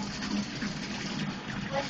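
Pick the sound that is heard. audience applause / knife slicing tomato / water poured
water poured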